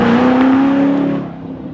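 A supercharged 5.4-liter V8 in a 2005–2006 Ford GT with a six-speed manual, tuned near 700 horsepower, idles loud and close with a steady deep drone that eases off slightly at the end.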